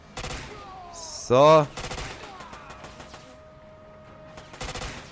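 Gunfire from shooting enemies in James Bond 007: Quantum of Solace, with short bursts of shots at the start, middle and end, a sharp loud burst around the middle, amid game effects and a brief spoken word.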